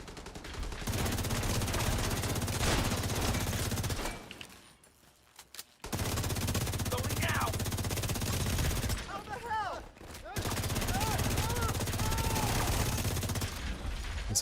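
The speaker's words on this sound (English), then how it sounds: "Some shooting." Bursts of automatic gunfire in a video game, loud and dense in rapid clusters with brief lulls between volleys, under occasional faint voice-like tones.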